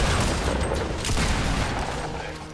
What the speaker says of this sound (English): This kid's shooting behind us from Tilted